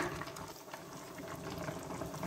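A little water poured into a cooking pot for a beef bone broth with spinach, a steady close splashing pour running the whole moment without any talk.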